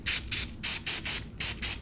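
Adhesive sprayed from an aerosol can onto a bamboo skewer and small metal hitch-pin parts: seven short hissing bursts in an uneven rhythm, close and clear, with no talk.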